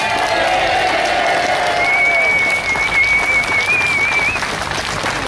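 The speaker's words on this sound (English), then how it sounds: "Massive cheer for Councillor Teal." A crowd cheers and applauds for Councillor Teal at a public gathering in Sheffield, with dense continuous clapping, whoops and a sustained high whistle through a few seconds.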